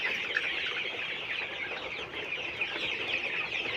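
Colour Bird chickens in a crowded poultry shed on a hot day, a dense continuous chorus of soft clucks and murmurs from many birds at moderate distance, with no talking.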